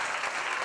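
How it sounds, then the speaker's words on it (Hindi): A brief burst of audience applause at a school film festival event in Rajasthan, dense clapping heard for under a second at moderate distance, with no voices over it. "एक बार जोर तालियों से."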